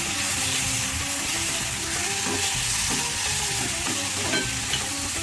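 Barnyard millet (varai) sautéing in a pan for fasting upma, a steady close sizzle with scraping stirs running throughout, no voices.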